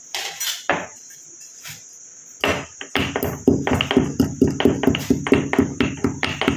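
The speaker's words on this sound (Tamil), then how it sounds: "அடுத்து நம்ம இந்த நல்லா வறுத்து வச்சுருக்க புளிய விதையை நம்ம ஒரு இடிக்கல்ல போட்டு இதை இடித்து எடுத்துக்கலாம்." Roasted tamarind seeds pounded in a stone mortar: a few scattered knocks at first, then a run of steady, rhythmic hard strikes, close and clear, over a constant high insect-like whine.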